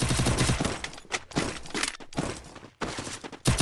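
Rapid gunfire from the mobile shooter Free Fire, with repeated bursts of loud, crackling shots separated by short gaps, close and dominant throughout.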